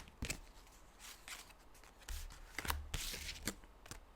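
Tarot cards are shuffled in a series of quick riffling and slapping bursts, close but fairly soft, with short pauses between handfuls and no talking.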